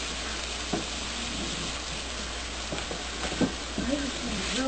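Pre-cooked food sizzles and browns in a pan with a steady hissing crackle and occasional pops and clinks, fairly close, while a voice murmurs faintly in the background.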